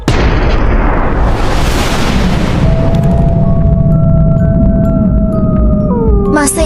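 A loud, roaring explosion blast swells and rumbles, followed by rising and falling whistling tones as the noise lingers.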